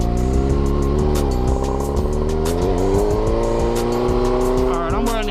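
Motorcycle engine pulling hard after an upshift, revs climbing loud and close in a rising whine that carries all the way through, with wind rush over it.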